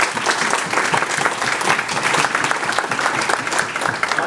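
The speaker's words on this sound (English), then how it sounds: "Let's give him a round of applause." A crowd at a political rally in Rhode Island gives a loud, sustained round of applause, thick and continuous clapping with no voices over it.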